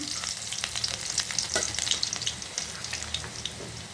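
Dried chillies and chopped garlic frying in hot oil, a steady close crackling sizzle with bursts of spattering and stirring scrapes, no voices.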